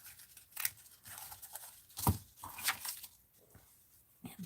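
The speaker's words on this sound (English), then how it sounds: "Let's cut a snip. I need a snip like that. And then I want to cut" Scissors cut paper in short, crisp snips at close range for papercutting, several separate cuts spread unevenly across the passage with no talking.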